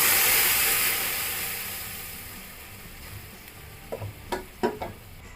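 Boiled moong dal hits hot oil with a loud bright sizzle that fades over a few seconds, followed by several sharp stirring scrapes and taps against the pan.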